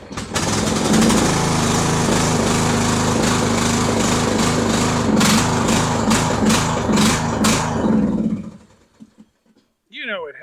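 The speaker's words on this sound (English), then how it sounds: "I'll put it all the way up into choke. Give it the old crank." Pull-start cranking of a choked Poulan lawn mower engine: loud sustained mechanical rattling with repeated sharp pulls for about eight seconds, then it cuts to near silence before a brief voice.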